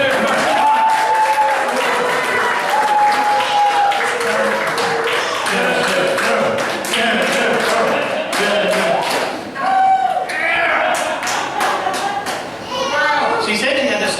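An audience at a talk event claps and cheers in steady, dense applause that fills the room throughout, with a few voices and shouts rising over the clapping.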